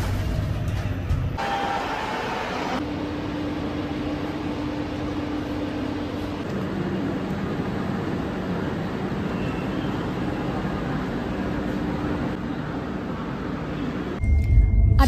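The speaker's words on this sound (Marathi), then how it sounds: "आता आमची ट्रेन सुटली आहे 1:40ला" A passenger train pulls out of a station on a Somnath trip, giving a steady, loud rumble of wheels and carriage noise that runs throughout, with a sharper jolt of noise near the end.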